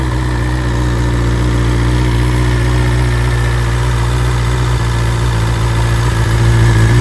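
A BMW M1000R motorcycle engine idles steadily at close range, a continuous low rumble with a constant vibrating drone and no voices throughout.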